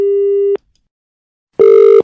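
Telephone busy or disconnect tone after a caller hangs up during a radio phone-in, two loud steady beeps separated by a second of silence, with no talking.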